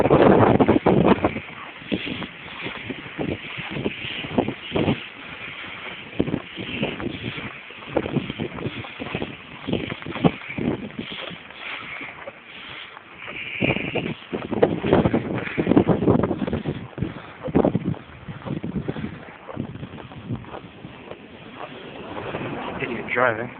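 Gusty blizzard wind buffets a microphone outdoors on a snowy hill, a loud, continuous roar with surging gusts that swell and fade across the whole stretch, with no talking.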